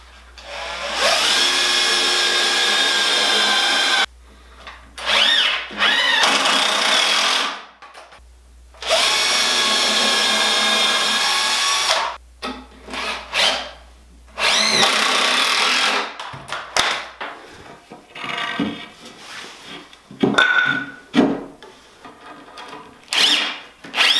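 A power drill drives screws into a wooden shelf with loud, sustained whirring runs, two of them several seconds long. Shorter bursts and clicks follow between brief quiet gaps.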